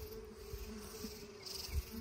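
Bees hum in a top-bar hive, a steady close drone with a few louder buzzes passing by, quiet and without voices.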